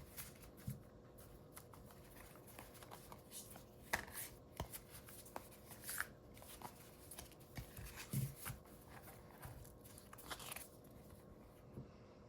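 Tarot cards from the Tarot Landscapes deck being shuffled and drawn, a soft, irregular run of riffling patters and light slaps, faint and close, with no talking.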